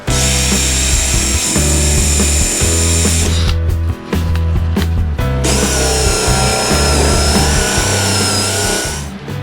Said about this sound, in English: I'm using as fine a tooth blade as I have for the Sawzall.